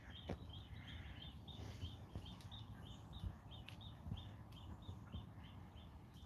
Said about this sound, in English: Can hear the birds in the distance.